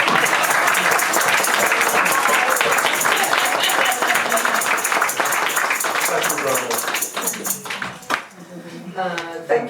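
A congregation applauding at a thanksgiving church service, sustained clapping from many hands that fades toward the end as a few scattered claps remain and a voice begins speaking.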